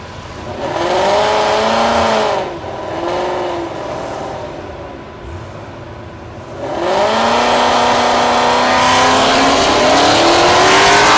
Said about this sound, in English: Jonathan Marshall in the right lane, the Mustang. Left lane, that's Jared Aspergren with the Camaro